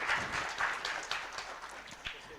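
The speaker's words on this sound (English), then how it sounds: "So I'd request everyone for a brief round of applause for the technology itself." Brief round of applause from an audience at a panel discussion on textiles and hazardous chemical elimination, a steady wash of clapping at moderate volume, fairly distant, lasting a couple of seconds.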